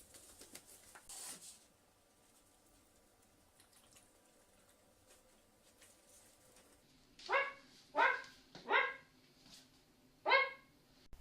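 A person imitates a dog, giving four short barks near the end, the first two and the last spaced apart, after a quiet stretch.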